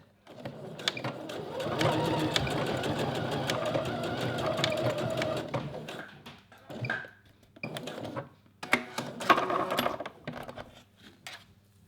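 A sewing machine runs a straight stitch along an elastic strap in a fast, close mechanical chatter that starts and stops in several bursts, with short clicks between runs.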